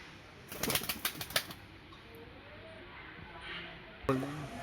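A pigeon released by hand, with a quick burst of wingbeats that flutters loudly for about a second and then fades into quiet outdoor background, followed by a later thump.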